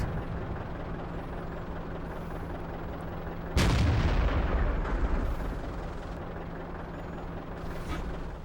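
Tank gun on a Waffenträger auf Pz. IV firing in a video game, a single loud booming shot midway that rumbles and decays over a couple of seconds above a steady engine drone.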